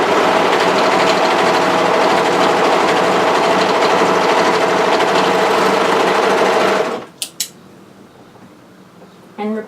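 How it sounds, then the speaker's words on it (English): An overlocker sews the short end of a hoodie cuff, running in a loud, steady mechanical whir for several seconds before stopping abruptly, followed by a couple of sharp clicks and quiet handling noise. "overlock through the shorter end, making sure that notch is still visible through our overlocking"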